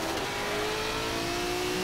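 A hypercar engine drones steadily during a race lap in Forza Motorsport 7, a continuous mid-pitched tone held at constant volume for about two seconds with no talking.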